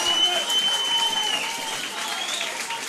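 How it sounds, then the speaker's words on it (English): Crowd applause at an All Ireland Junior Club match rolls on steadily as Coolera Strandhill leave the field, with a whistle-like tone early on and a commentator talking over it. "Coolera Strandhill applauded off the field."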